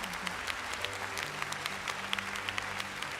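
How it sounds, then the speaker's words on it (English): Warm applause from the crowd at a fan battle competition: steady, dense clapping that fills the space evenly, with low musical tones humming faintly underneath and no talking. "give you another warm round of applause"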